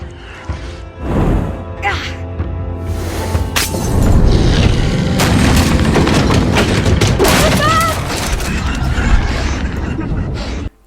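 Molotov cocktail in the video game Röki: a shattering burst and boom followed by a sustained roaring, crackling blaze, loud and dense, with vocal exclamations mixed in before it cuts off.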